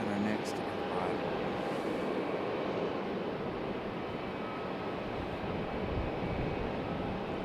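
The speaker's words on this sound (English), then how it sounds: "Looks like another United 737, right back to back." A United Boeing 737 airliner arrives at Raleigh-Durham International Airport, a steady broadband jet roar that stays loud throughout, mixed with wind noise on the microphone.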